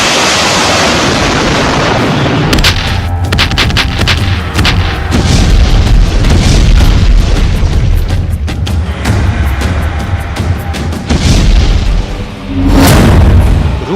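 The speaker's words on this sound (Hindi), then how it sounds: "एक के बाद एक आग उगलती ये मशीन यूक्रेनी सेना की तरफ से रूस पर दागे जा रहे रॉकेट लॉन्चर हैं।" Military rocket launchers in the war in Ukraine fire in a rapid, loud barrage of booming blasts and crackling reports, with rolling rumble throughout and a final heavy burst near the end.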